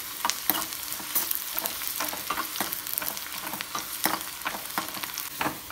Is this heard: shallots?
yes